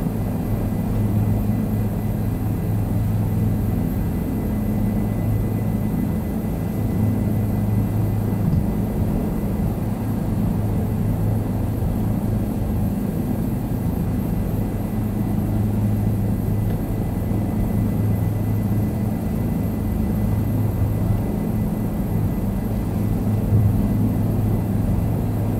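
Steady, even drone of a light airplane engine in a flight simulator game as it approaches a runway to land, constant and unbroken throughout with no talk.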